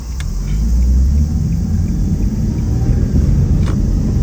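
Right-hand-drive car cruising along a road in Japan, a steady loud low engine and road rumble throughout with no talk over it.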